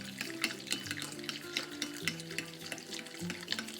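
Marseille soap flakes stirred in hot water to make slime, a soft continuous swishing and clinking of a utensil in the bowl, fairly quiet and steady with no talking.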